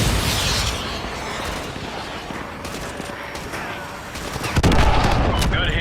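Dense, sustained gunfire and explosions in the video game Call of Duty Modern Warfare 2 Remastered, near and loud throughout, with a heavier burst of shots and blasts near the end; faint radio voices mixed in.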